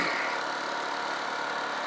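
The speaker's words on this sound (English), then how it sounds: "got the old Honda generator running and everything" An old Honda generator runs with a steady, unbroken broadband engine drone, close and fairly loud, with no change in pitch or rhythm across the short stretch.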